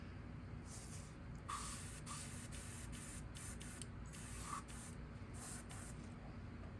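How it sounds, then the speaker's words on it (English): A spray gun lays UVLS clear coat over a painted fishing lure, giving a steady, continuous close hiss that pulses in short bursts without any pause. "Then I'm gonna shoot a coat of UVLS over this"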